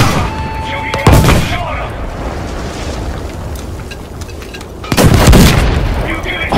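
Two loud broadband blasts in Battlefield 5, a projectile exploding on impact, the first near the one-second mark and a second heavier one near the end, each with a rumbling tail over steady game ambience.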